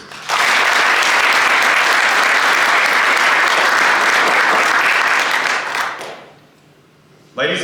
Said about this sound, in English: Please join us in a round of applause for our awardees